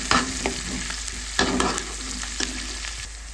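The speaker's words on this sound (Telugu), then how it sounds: "ఇప్పుడు కరిగి పెట్టుకుని ఒక టమోటాను కూడా యాడ్ చేసేస్తున్నాం. ఇందులో ఇది కూడా బాగా ఫ్రై అవ్వాలి." Onion and tomato frying and being stirred in a pan, with steady sizzling and several scraping stir strokes at irregular intervals, heard close with no talking.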